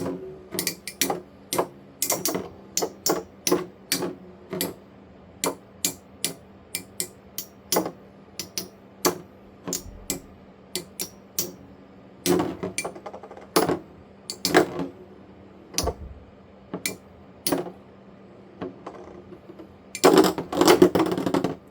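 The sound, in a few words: Beyblade metal tops hitting each other in battle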